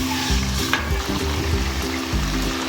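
Egg curry masala with yogurt fries over low heat in ghee, a close, steady sizzle mixed with scraping stirs of a spoon in a regular rhythm, no talking.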